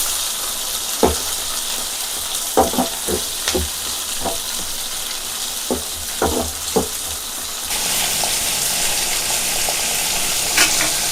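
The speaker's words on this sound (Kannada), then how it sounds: "ಇದನ್ನು ಚೆನ್ನಾಗಿ ಎಣ್ಣೆನಲ್ಲಿ ಫ್ರೈ ಮಾಡ್ಕೋಬೇಕು." Chopped tomatoes frying in oil for a curd sambar, a steady close sizzle broken by sharp clinks and scrapes of a spoon stirring the pan, with the hiss swelling louder near the end.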